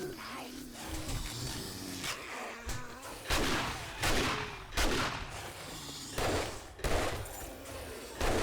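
Rapid gunfire in the 7 Days To Die video game, fired in several loud, close bursts separated by short pauses, with no talking.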